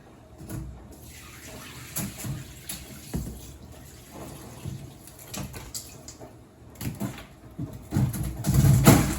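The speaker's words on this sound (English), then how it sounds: "we are now going to pull the ice off and drain the cucumbers" Water is drained from sliced cucumbers that sat under ice for pickles, with uneven splashing and trickling, soft clatter, and a louder gush near the end.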